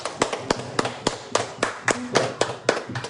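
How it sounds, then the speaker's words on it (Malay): A small audience at a company interview event gives a sparse round of applause, a dozen or so distinct, fairly regular claps spaced across a few seconds in a quiet room. "Berikan tepukan"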